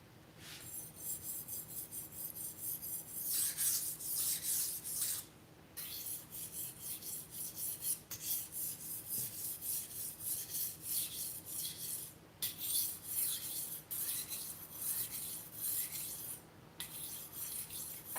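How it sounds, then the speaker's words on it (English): A kitchen knife drawn repeatedly across a sharpening stone gives a steady, raspy scraping. The strokes run close and fairly loud, with a few short pauses, and no voices are heard. "So I really don't excel at sharpening my knives."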